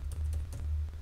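Keys clack on a computer keyboard during coding, several quick close taps in an uneven burst with no talking.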